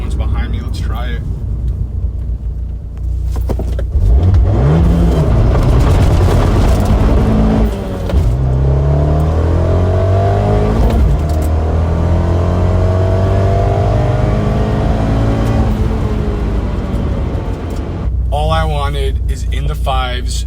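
Turbocharged Abarth 124 Spider launching hard and accelerating, the engine climbing through the revs with a gear change midway, loud and close from inside the cabin, with a person talking over it.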